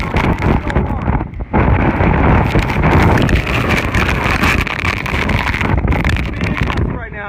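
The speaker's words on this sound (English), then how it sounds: "Big gusts right now." Hurricane Michael's eyewall winds roar in loud, sustained gusts, a dense, buffeting rush that barely lets up, with a voice briefly heard beneath it.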